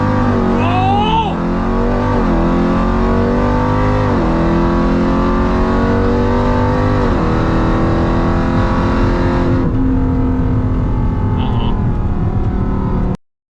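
A roughly idling, heavily modified 1000 hp Jeep Trackhawk engine running loud and close at a drag race, its throttle blipped into repeated revs, with the rumble dropping to a quieter idle near the end.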